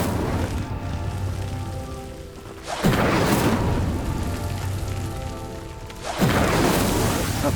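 An Incendio fire spell cast in Hogwarts Legacy, a loud roaring whoosh of flame erupting twice a few seconds apart, each swelling over a steady dense rumble.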